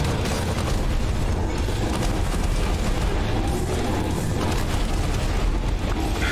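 Missile explosions in the video game Nightmare Reaper roar as a dense, continuous barrage of booming blasts, loud and close, with a rumbling low end and crackling debris filling the whole stretch.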